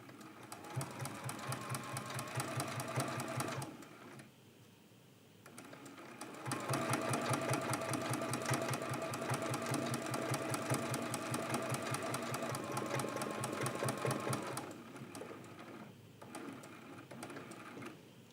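A sewing machine stitches a quilt-as-you-go block in steady, rapid runs, with a brief pause midway and another near the end, close and clear with no talk.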